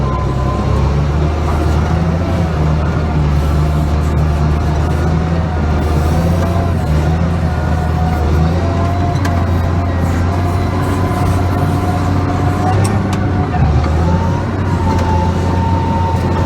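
A truck trailer hauling cats on a cold Friday grinds its underside along the road, a loud continuous low rumble and scraping roar with engine drone, steady throughout without speech.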